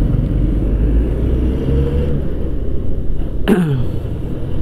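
A truck rumbles along the road just ahead of a motorcycle in the morning, a low continuous engine drone mixed with wind noise, with a brief sharp swooping whoosh near the end.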